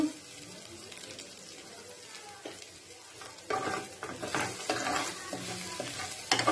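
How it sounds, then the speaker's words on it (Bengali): A spoon stirs coriander powder into a cashew and yogurt spice paste in a pan for malai soya chaap, a soft scraping sizzle that grows louder and more active partway through. "ধনেটা ভালো করে মশলার সঙ্গে মিশিয়ে নিলাম।"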